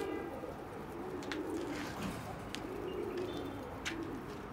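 Domestic pigeons coo in a loft, low rolling coos repeating steadily and fairly close, with a few faint clicks and bird sounds over a constant background hum, no talking.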